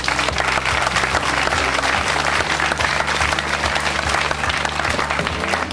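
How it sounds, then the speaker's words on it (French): Continuous audience applause at an evening film screening as the director is introduced, a dense, even wash of many hands clapping with a low steady hum underneath, loud and unbroken throughout. "Je vous demande de l'applaudir parce qu'il a fait un travail remarquable."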